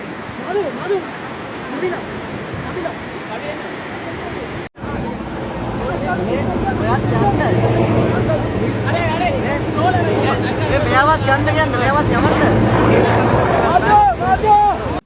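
Floodwater swirls and rushes around a stranded bus, a loud steady roar of moving water, with many people talking and shouting close by over the flow; a sharp cut splits the scene partway through.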